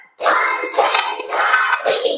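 Schoolchildren performing a counted focus clap together in a classroom, loud close clapping bursts arriving in a rough rhythm after a brief silence.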